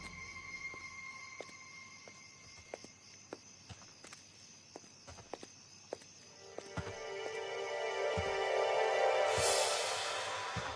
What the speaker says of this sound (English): I walked down the street and I just heard footsteps